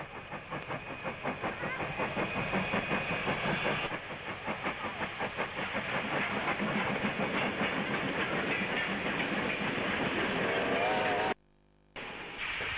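Vintage 440-class steam locomotives 1219 and 1709 double-head a train on the Tumut line in Australia. The engines give a loud, rapid chuffing exhaust over steady steam hiss, and the sound cuts out abruptly near the end.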